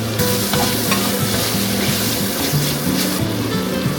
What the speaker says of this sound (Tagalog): Tapos igisa lang natin yan ulit mga 2 to 3 minutes hanggang sa maluto yung ating hipon.